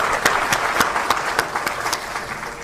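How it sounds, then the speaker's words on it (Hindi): A small audience at a presentation about an Anganwadi childcare co-scheme initiative gives a short, moderately loud burst of clapping, with individual claps standing out distinctly and the sound fading within a few seconds. "एक बार तालियां हो जाएं इस कामयाब पहल के लिए।"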